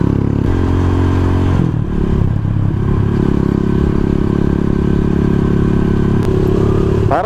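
A Rusi Sigma 250 motorcycle rides a rough, partly unpaved road, its engine droning loud and continuous with rattling clatter and bumps from the uneven surface, no talk heard.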